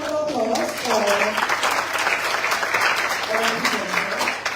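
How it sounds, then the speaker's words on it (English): Audience applause at a school debating competition, a steady broadband wash of clapping throughout with voices mixed in underneath. "please give a round of applause for our"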